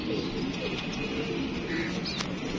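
Soft cooing of a female pigeon with a numbered ring, from a flock of pigeons, low and continuous amid steady background noise, with faint brief chirps above.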